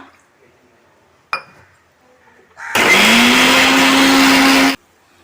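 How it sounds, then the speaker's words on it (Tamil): A kitchen mixer grinder whirs loudly for about two seconds, grinding grated coconut with a little water, after a single clink and some quiet handling sounds, cutting off abruptly. "கொஞ்சமாக தண்ணி ஊற்றி அரைக்கணுமா"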